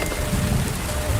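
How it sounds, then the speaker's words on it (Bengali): Heavy rain pouring steadily on surfaces in a continuous dense hiss, close and fairly loud, with no voices. "প্রচুর বৃষ্টি হচ্ছে।"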